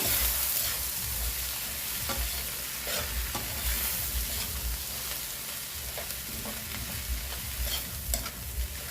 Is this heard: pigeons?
no